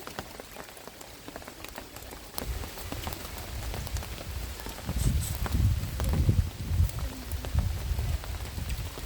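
Steady rain patters on a surface, growing heavier and louder partway through, with scattered drops tapping close by, at an outdoor barbecue site in Tai Tan, Hong Kong.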